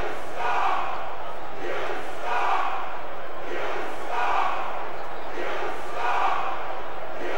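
In the wrestling video game SmackDown vs Raw 2006, an arena crowd cheers and roars continuously, with the noise swelling in regular waves, loud and unbroken.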